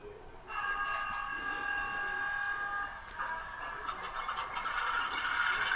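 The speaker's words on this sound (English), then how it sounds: "Now I'm starting up the ESU LokSound." ESU LokSound decoder in an AC4400 model diesel locomotive starting up: a steady electronic tone and engine hum come in after a brief pause, then shift into a rougher, louder idle rumble, with no voices.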